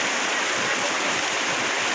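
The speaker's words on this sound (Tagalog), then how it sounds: "maghapon, magdamag magtuloy-tuloy pa yung ulan na yan" Heavy rain pours down amid floodwater, a dense, unbroken hiss of rushing water, loud and close, with no voices.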